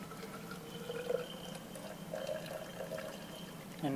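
Hot water pours steadily into a measuring vessel at close range, a soft continuous trickle with a faintly rising fill tone for about four seconds, with no talking.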